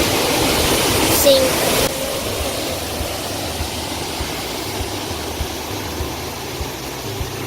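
The largest of the White Oak Canyon waterfalls in Shenandoah National Park gives a steady, loud, broadband roar of falling water, constant throughout, with a voice briefly speaking over it near the start.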